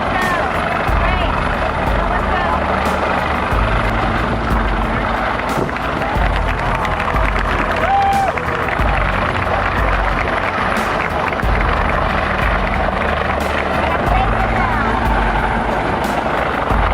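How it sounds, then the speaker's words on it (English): Coast Guard helicopter hovering over the open ocean near the Carnival Sensation cruise ship during a medical airlift, a steady loud rotor and engine drone with wind, continuous throughout. "Guard helicopter rescue in the middle of the ocean from Carnival Sensation ship."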